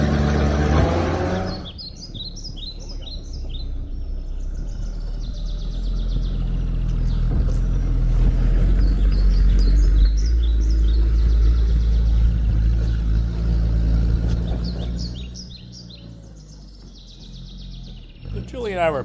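A Sherp amphibious ATV rumbles steadily through a gravel pit, its engine a continuous low drone that swells and eases over the stretch, with bird chirps scattered above and brief voices near the start and end.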